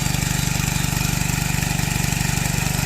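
A diesel water-pump engine runs steadily and loudly nearby, its low, even thumping pulse holding unchanged throughout with no voices.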